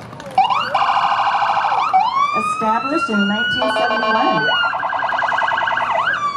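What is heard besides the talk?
ambulance siren in a parade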